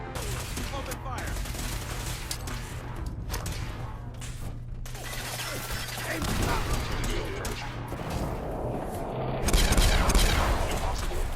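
Gunfire in the Fallout video game, sustained rattling bursts of automatic fire over a low mechanical hum, growing heavier and louder near the end, with voices mixed into the combat.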